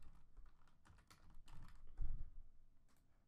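Keys clack on a computer keyboard in quick, uneven bursts while text is typed for a spirit wear design, close and fairly soft, with a brief louder knock near the middle and no speech.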